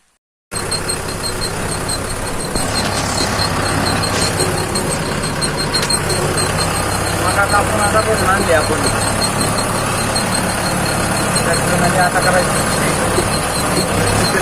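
A steady tractor engine drone runs throughout, near and constant, with a faint high squeal over it and background voices now and then, on a farm at night.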